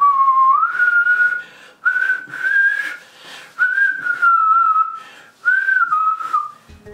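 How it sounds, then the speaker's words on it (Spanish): A person whistles a wavering melody in several sustained phrases separated by short breaths, close and fairly loud, with no talking. "me cuesta más silbar"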